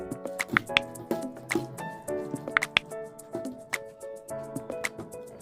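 Chicken pieces are mixed by hand with pepper, salt and soy sauce, producing soft wet squishes and small clicks and taps in an irregular rhythm, close and quiet.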